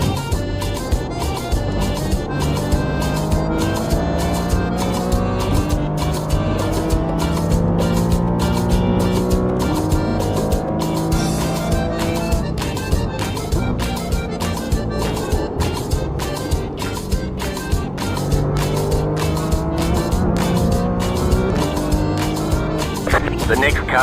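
Race cars whine and shift through engine revs in a racing video game, a steady loud drone of rising and falling engine tones with repeated clicks, while someone talks over it.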